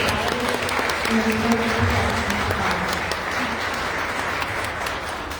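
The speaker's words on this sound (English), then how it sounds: "Please give a round of applause" Steady applause from a crowd at a press conference, a dense wash of clapping that holds evenly throughout and slowly eases off, with faint voices underneath.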